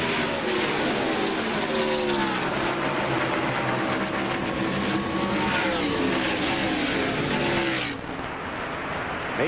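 NASCAR Winston Cup stock cars racing at Pocono Raceway, several loud engines roaring past in overlapping waves with rising and falling pitch, a dense continuous din that drops slightly near the end.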